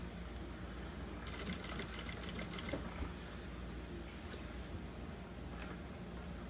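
A sewing machine runs steadily while stitching a sticky-material document holder with a zipper, a continuous, fairly quiet mechanical whir with light rapid ticking throughout.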